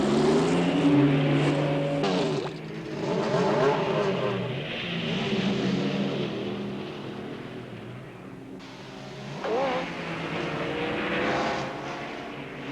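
Race cars circling the Le Mans circuit in 1976 drone steadily with a loud, continuous engine roar. The pitch rises and falls as the cars pass, and a fresh car sweeps by near the end.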